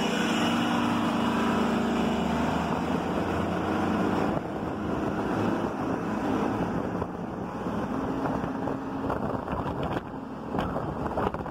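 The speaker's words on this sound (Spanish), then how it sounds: "escuchan los motores revolucionando" Loud, continuous bus engine rumble with wind buffeting the microphone, a steady low drone that dips slightly midway.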